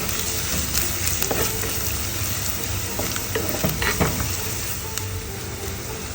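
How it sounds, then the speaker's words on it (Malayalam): Ginger and garlic sautéing in a pan, a dense continuous sizzle close up with intermittent scrapes and light clinks of a utensil stirring through the mixture. "ഇഞ്ചിയും വെളുത്തുള്ളിയും കൂടെ ഒന്ന് പച്ചമണം മാറാൻ വേണ്ടി ഒന്ന് വഴറ്റിയെടുക്കുവാണ്."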